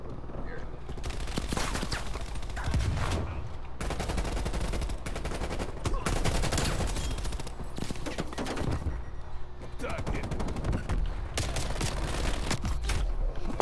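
Dense rapid gunfire in a first-person shooter video game on the Nuketown map, loud continuous bursts of automatic fire with some brief pauses, with players talking over it.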